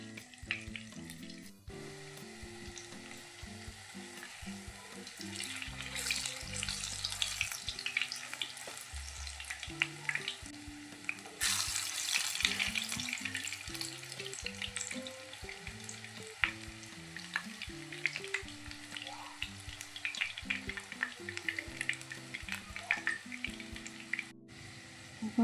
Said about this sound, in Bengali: পকোড়াগুলি খুব ভালোভাবে ভাজা হয়ে গেছে